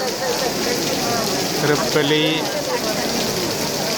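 Rain falls steadily at a graveyard during a priest's funeral, a constant soft hiss spread across the scene while someone speaks in Tamil over it.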